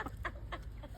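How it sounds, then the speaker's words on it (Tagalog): Several chickens of an unusual breed cluck in short bursts close by, a few quick calls over a low background murmur. "Yeah, they are chickens."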